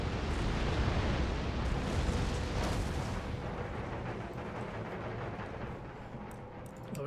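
Massed musket volleys and booming artillery in an Empire Total War battle, a continuous rolling roar of overlapping shots and blasts that slowly eases in intensity, with no talking over it.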